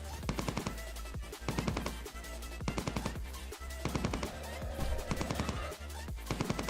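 Rapid bursts of gunfire from hunting in Entropia Universe crack out in quick repeated volleys with short pauses between them, loud and close, over a steady low drone.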